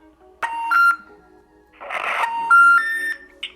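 Electronic voicemail tones sound on a phone call: a short burst of stepped beeps, a pause, then a longer run of rising beeps, clear and close.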